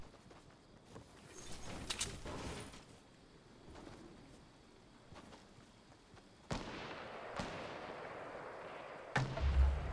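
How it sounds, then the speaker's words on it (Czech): Gunfire in an online shooter game, with a semi-automatic sniper rifle among the weapons: scattered shots and bursts, some sharp and close, others distant, over a rumbling battlefield ambience, with no talk. "Už po mě taky někdo střílí, tyjo."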